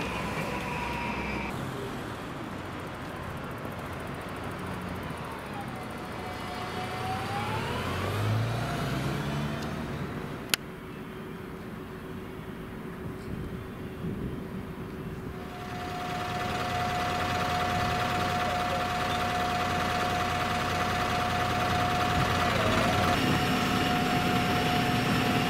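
Buses and traffic move through a quiet station area, with engines idling and passing, a rising whine as a vehicle pulls away, a sharp click, then a steady tonal hum from a waiting bus.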